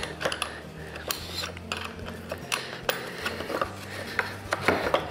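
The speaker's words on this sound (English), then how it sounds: "Now that I have my ribs in, I can remove those struts or those supports there by undoing the bolt." Metal bolt being undone on a ukulele-building jig to free the rib supports: soft clicks, ratcheting ticks and small rubbing scrapes, close and fairly quiet, with a few sharper knocks scattered through.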